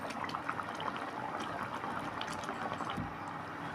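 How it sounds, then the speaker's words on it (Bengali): Doi katla, a Bengali fish curry in yogurt gravy with green chillies, bubbles steadily in a pot, giving a continuous close simmering crackle with a brief louder bubbling surge near the end. "মাছগুলো দিয়ে ভালো করে ফুটিয়ে নেব ঝোলটা ফোটার সময় দিয়ে দেবো কয়েকটা কাঁচা লঙ্কা"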